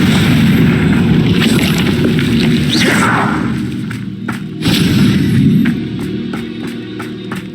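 A Confringo blasting spell erupts in Hogwarts Legacy with a loud, sustained booming roar and rumbling blast that dips briefly, then surges again, followed by scattered sharp crackling snaps.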